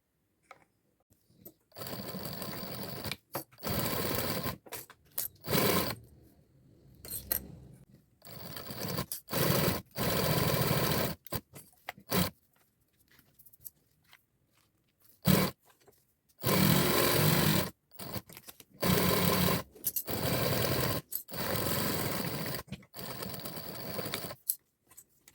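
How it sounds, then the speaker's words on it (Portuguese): A sewing machine runs in repeated bursts, stitching together the plastic sides and bottom of a magazine folder edged with faux leather, with short pauses between runs and no talking. "Eu vou passar uma costura para prender todo mundo junto aqui."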